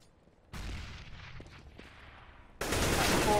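A grenade detonating in Counter-Strike gameplay: a sudden loud burst that decays into a rumbling tail with faint clicks, followed by a second, harsher blast near the end.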